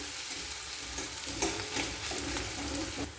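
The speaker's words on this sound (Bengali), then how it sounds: "তেলের মধ্যে হালকা ব্রাউন করে পেঁয়াজ ভেজে নেব।" Chopped onions frying in hot oil, browning lightly for egg kochuri filling, a close continuous sizzle with soft stirring scrapes throughout.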